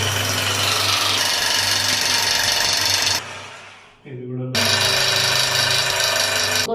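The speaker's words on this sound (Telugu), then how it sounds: "ఇప్పుడు ఈ డ్రిల్లింగ్ మిషన్తో మనం హోల్స్ పెట్టుకోవాలి." A power drill grinds holes into floor tiles with a loud, steady whine, briefly stopping and spinning down before starting again at full strength.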